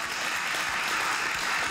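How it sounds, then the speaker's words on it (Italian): Steady wash of applause from a TV studio audience, a dense continuous crowd clapping held at an even level throughout, with no clear voices above it. "Applauso."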